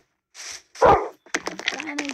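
A dog in the video game Minecraft gives two quick barks, loud and close, followed by a voice talking.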